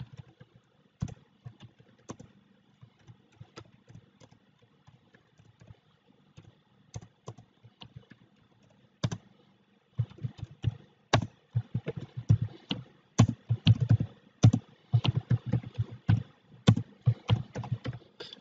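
Phrase typed on a computer keyboard, a run of quick, close clicking keystrokes that start sparse and hesitant, then turn into dense, steady bursts of typing toward the end, with no voices.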